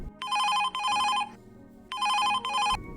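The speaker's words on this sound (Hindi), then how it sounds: "तभी दुकान का फोन बज उठा।" A shop telephone rings in two double bursts of electronic trilling, loud and close, separated by a short pause.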